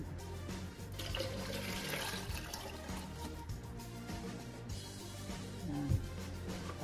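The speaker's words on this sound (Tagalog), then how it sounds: "Lagyan natin siya ng tubig." Water pours continuously into a pitcher of lemonade mix with a steady splashing rush, fairly close, and a faint knock near the end.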